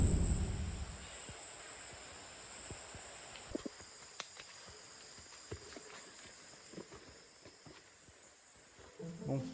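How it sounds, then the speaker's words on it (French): Calm morning rainforest ambience in the Amazon of French Guiana: a steady, faint high insect drone hangs over sparse soft clicks and rustles, with no frog chorus. "ce matin la jungle est plutôt calme"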